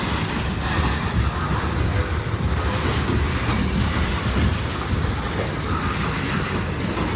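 Steady rumble of a train in a rail yard during switching, with railcars rolling and wheels clacking at moderate distance under a constant broadband roar, no voices.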